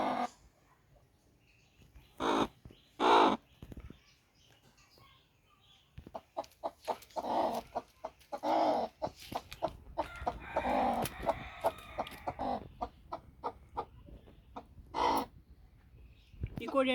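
Native hens cluck in a farmyard, giving repeated bursts of calls that come and go. The calls grow busier and more continuous partway through, with other bird noise mixed in.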